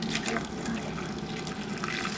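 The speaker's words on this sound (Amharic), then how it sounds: "እዚህ ጋር አንድ ኩባያ የፈላ ውሃ እጠቀማለሁ።" A cup of boiling water is poured, giving a steady, continuous gush and splash of liquid filling a vessel, close and fairly loud throughout with no voices.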